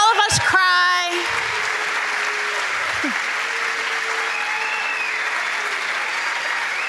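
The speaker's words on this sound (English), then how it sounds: "Let's give them a big round of applause." Audience at an elementary school graduation ceremony applauds the children's choir in a broad, sustained wash of clapping that fills the room, with a brief voice at the start and scattered cheers over the steady applause.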